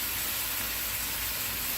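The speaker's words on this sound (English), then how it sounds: "Just put it in the pan and just saute it." Lobster sautés with Indian spices in a pan of olive oil over a medium-low flame, a continuous broadband sizzle and hiss that is close and fairly loud throughout the short stretch.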